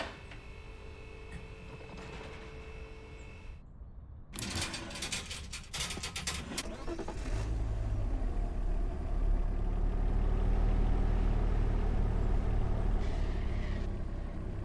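In the Car Dealer Simulator video game, a car engine idles and then grows to a loud, steady low rumble as the car is driven onto a lift, following a brief burst of clattering mechanical noise.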